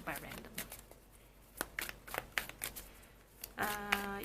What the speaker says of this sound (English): You don't have to stay and watch me shuffle the whole way